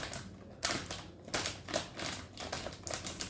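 Sharp snips and crunches of strong scissors cutting through potato chips land in an irregular series of about six close, crisp clicks with brief pauses between them, and no talking.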